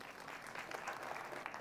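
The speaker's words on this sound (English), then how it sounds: "Let's give her a round of applause." Quiet, distant audience applause at a panel discussion on Kenyan music, a brief steady patter of many hands clapping together.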